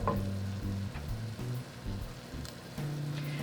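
Ground beef for a casserole, mostly browned and still sitting in a lot of liquid, sizzles and bubbles in a pan with a steady crackle and occasional stirring scrapes, close and moderately loud with no talking.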